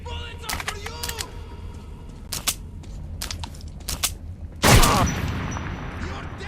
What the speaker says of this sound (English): These bullets are for you!